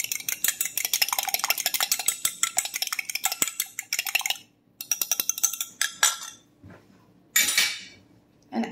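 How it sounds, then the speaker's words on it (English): Egg yolks get beaten in a bowl, a fast steady clatter of a utensil tapping and scraping against the sides, pausing briefly and then resuming in short bursts, close and clear with no talking. "now we are going to beat these eggs"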